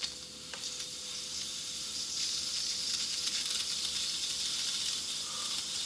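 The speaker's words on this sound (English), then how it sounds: "so I am gonna let the air out just a little bit sooner. It's gonna get noisy just for a second." Steam hisses steadily as air is let out of a cooking vessel holding spiced food with cinnamon, a continuous, moderately loud sizzling rush that holds for several seconds with no talking.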